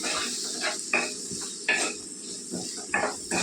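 Spoon scraping and clinking in a pan as onions fry in oil for okra curry, a soft sizzle running underneath, with a few sharp stirring knocks close by over about three seconds and no talking.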